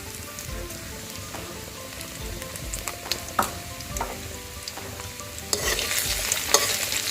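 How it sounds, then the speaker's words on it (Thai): Chili, garlic, black peppercorns and dried chilies stir-frying in a pan for pork basil, a steady close sizzle with scraping stirs and clicks, growing louder and brighter near the end, no talking. "เดี๋ยวเราจะมาเริ่มผัดกันแล้วนะครับ อันนี้ก็จะเป็นพริกกระเทียมแล้วก็พริกไทยเม็ดนะครับ"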